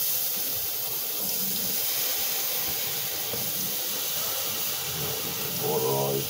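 Tap water running steadily into a sink while a pan is cleaned, a constant hissing splash heard close throughout, with a voice briefly near the end.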